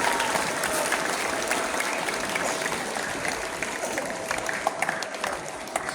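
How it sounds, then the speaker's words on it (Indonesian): Sustained applause from a large crowd of students and teachers at a school flag ceremony for National Education Day, steady and dense clapping filling the space, with faint voices mixed in. "kita kasih aplaus untuk petugas upacara"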